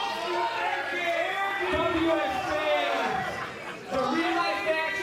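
WWE ID wrestling crowd shouting back at a wrestler during an open challenge, a dense roar of voices with overlapping chants and yells, loud and steady with a brief dip near the end.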